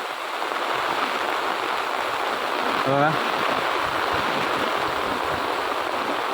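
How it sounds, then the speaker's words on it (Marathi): Dense, steady hiss of heavy rain pouring without pause in a forest in the Konkan region, with a single short voice sound partway through. "जोरदार पाऊस सुरू है"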